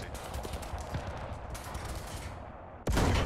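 War Thunder tank battle: rapid rattling bursts of gunfire under a dense battle din, then a sudden loud tank shell blast near the end.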